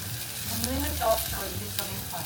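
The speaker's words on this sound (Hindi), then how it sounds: "अब थोड़ा सा फ्लेम हाई करके हम इसे ब्राउन करेंगे।" Onions browning in a pan over a high flame give a steady close sizzle and frying crackle, with stirring scrapes rising over it now and then.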